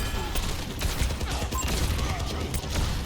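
Continuous rapid gunfire in the video game Overwatch 2, a dense rattling stream of shots with scattered impacts running the whole time under game ambience.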